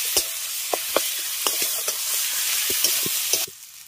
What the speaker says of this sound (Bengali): মশলাটাকে একটু ভেজে নেবো, যেহেতু চিনেবাদামটা ব্যবহার করেছি তাই একটু ভেজে নিচ্ছি